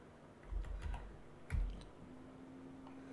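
Typing on a computer keyboard, two short clusters of quiet key clicks close by, with a faint steady hum behind them.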